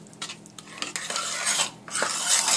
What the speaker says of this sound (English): we're just going to stir the ingredients for the sauce together until they melt and combine